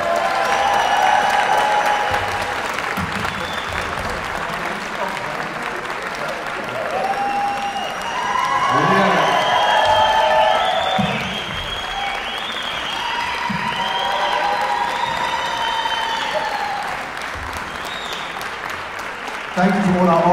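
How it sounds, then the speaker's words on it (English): An audience at a singing prize ceremony applauds in a sustained, dense wash of clapping that swells midway, with some cheers and voices mixed in. "let's give them another round of applause"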